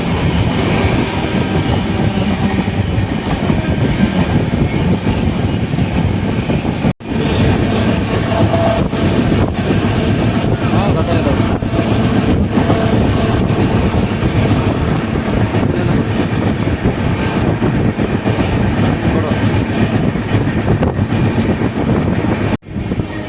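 Steady rumble and rail noise from inside the Vaigai SF Express running from Madurai to Chennai Egmore, continuous and loud with faint clatter and a couple of brief dropouts, no voices.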